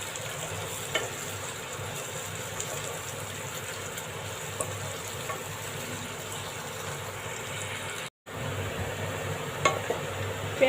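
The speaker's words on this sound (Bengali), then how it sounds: "এখন আমরা পেঁয়াজটা ভালো করে ভেজে নিব।" Onions fry in a pan with whole cloves and peppercorns, a steady, even sizzle holding at one level throughout with faint occasional crackles and a brief dropout.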